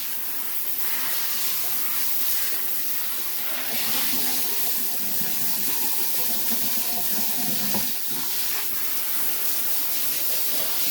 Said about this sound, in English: Now you turn the water back on, and you spray down the bathtub again